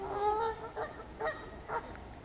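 Coots calling on open water, several short honking calls spaced about half a second apart, fairly near and moderately loud, with no talk.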